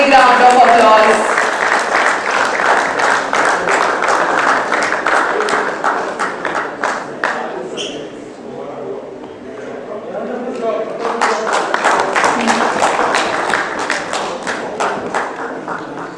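Applause for a singer at a conclave in a hotel venue, with distinct individual claps from a modest crowd, dipping in the middle and then rising again, mixed with voices talking.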